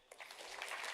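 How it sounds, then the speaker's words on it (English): Audience clapping at an AI engineering conference keynote starts abruptly and swells over a brief moment, quiet and distant. "So a round of applause for these folks here."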